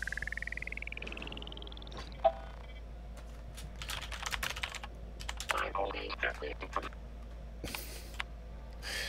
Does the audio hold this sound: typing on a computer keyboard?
yes